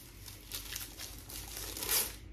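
Plastic wrapping around a newly bought Redmi phone crinkles and crumples close up, a few handling bursts with a louder rustle near the end, no voices.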